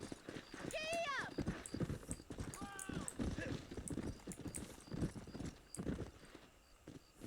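A horse gallops in Red Dead Redemption, rapid close hoofbeats with brief neighs or whinnies rising over them, while a voice talks along through the ride.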